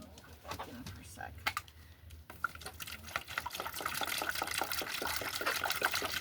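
Water being poured out for a flock of hens, a running liquid splash that builds steadily louder over several seconds while birds coo and cluck close by and a person speaks now and then.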